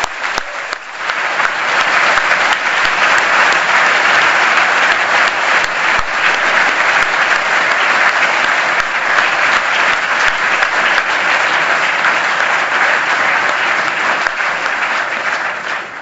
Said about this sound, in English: A round of applause for the organizing team.